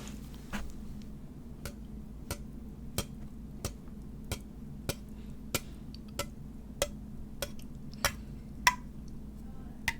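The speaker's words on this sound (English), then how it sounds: "What if you tapped on it with your pen or your pencil?" A pen taps repeatedly on an aluminum soda can, about fifteen sharp, evenly spaced ticks over a low steady background hum, close and fairly quiet, with no talking.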